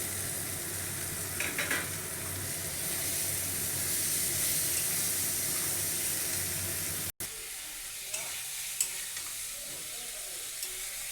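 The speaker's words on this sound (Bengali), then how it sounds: "খুব সুন্দরভাবে তরকারিটা কষানো হয়ে গেছে" Mushroom curry stirred and sautéed in a pan in a Bengali home kitchen: a steady close sizzle and hiss with occasional scraping strokes, cutting out abruptly and returning as quieter, sparser frying.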